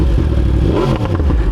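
A motorcycle engine runs close and loud, a steady low rumbling exhaust note with a slight rise in revs partway through, no voices over it.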